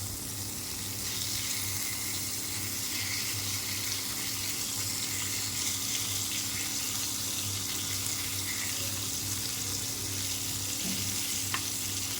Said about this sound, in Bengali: আমি এখানে পাঙ্গাস মাছ নিয়ে হলুদ মরিচ লবণ 1 চামচ করে দিয়ে মেখে ভাজা দিয়ে দিয়েছি